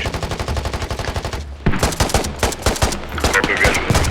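Enemy gunfire at a firebase in the military shooter Squad: rapid sustained machine-gun bursts, loud and close, with a brief lull before heavy firing resumes and continues.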